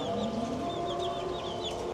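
Chickens cluck softly in the evening as they settle, giving a few short, faint calls over a steady, quiet background.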